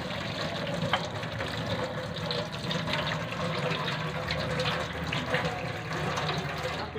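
Hands being rinsed under a running tap during a handwashing demonstration, a steady moderate rush of flowing water splashing continuously without talking.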